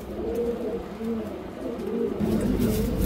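Pigeons for sale at a pigeon shop coo in low, rolling, overlapping calls, close and fairly loud, repeating through the whole stretch against a busy indoor background.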